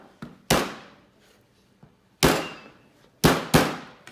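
Garlic cloves get smashed under the flat of a kitchen knife blade on a cutting board, heard as four or five sharp, close thuds with quick decays, some arriving in quick pairs, with no talking.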